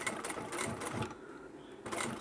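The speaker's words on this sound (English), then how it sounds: "If you're using a regular sewing machine, you want to go slow because we're going over lots of layers." A regular home sewing machine with a universal needle stitches slowly through many layers of fabric for a lined crossbody satchel, quiet, close bursts of whirring stitches with a short pause in between.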